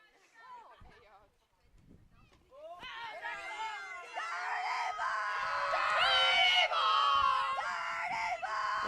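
A junior varsity softball team shouts and yells loudly right beside a crowd microphone during a high school bi-district playoff game, the voices starting faint and sparse, then swelling into a dense, excited, high-pitched chorus.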